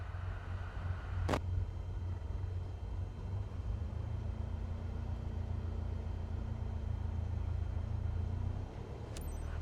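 A Cessna's engine drones in a low, steady hum while taxiing in Microsoft Flight Simulator 2024, faint and constant with a couple of brief clicks.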